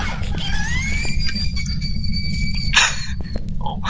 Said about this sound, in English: that's a classic scream